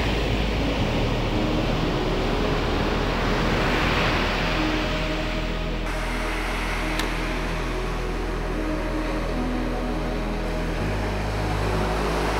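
Ocean waves at the seaside around sunrise make a loud, continuous broad wash of surf with a low steady rumble underneath, unbroken throughout.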